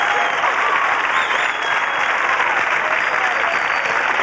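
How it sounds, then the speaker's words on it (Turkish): A studio audience at a 1999 Turkish comedy show claps in dense, steady applause, loud and sustained with no break. "Bak, bak alkışın canlılığına bak."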